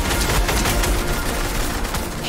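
SCAR assault rifle in Fortnite: a dense burst of rapid, overlapping gunfire, loud and continuous for a couple of seconds, thinning slightly toward the end.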